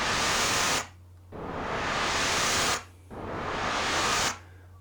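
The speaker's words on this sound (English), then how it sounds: "I use the EG to sweep into the white noise." White noise from a Korg Minilogue XD synthesizer, swept in by an envelope in three long rising swells separated by brief near-silent gaps, loud and alone.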